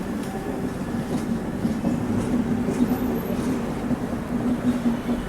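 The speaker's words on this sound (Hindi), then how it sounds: "यहाँ पर कोई ट्रेन के साथ क्रॉसिंग हो रही है जो अभी गोंदिया की ओर बढ़ रही है" A train crossing on an Indian railway gives a steady, loud rumble with rhythmic clickety-clack of wheels over rail joints, close and continuous.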